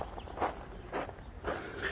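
Footsteps crunching over rough ground at an outdoor village site by the shore, a few steady paces close to the microphone, moderately loud with no talk.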